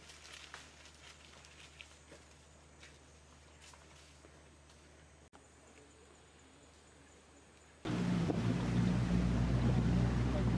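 A steady motorboat engine on the Kinabatangan River drones beneath wind noise, then grows suddenly much louder and rougher as the boat speeds up or the wind buffets closer.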